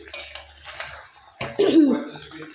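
Chicken being stir-fried without oil in a pan for Bengali chicken kosha, with scattered scrapes and clinks of a utensil against the pan, then a louder sizzling stir near the end.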